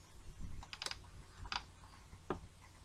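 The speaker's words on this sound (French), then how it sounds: "je peux simplement appuyer sur la touche Delete de mon clavier" Three separate key presses on a computer keyboard, Delete key being tapped, each a sharp close click with pauses between, alone in a quiet room.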